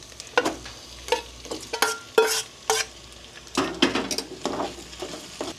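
Pork for adobo with tausi being sautéed in a pan, a steady sizzle broken by repeated scraping stirs and occasional clinks of a utensil against the pan, close and fairly loud with no talking.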